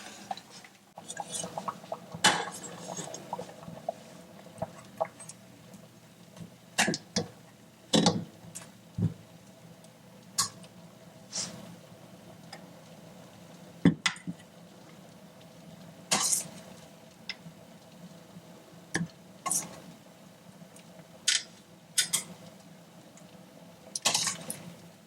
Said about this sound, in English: I'm going to remove the bone, cut off the rest of the meat